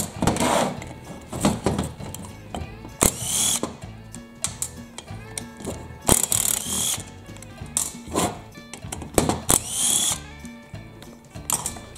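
A power tool removes the starter assembly screws on an Echo SRM-280 weed trimmer, giving repeated bursts of whirring and ratcheting with clicks and clatter in between, close and fairly loud, with no talking.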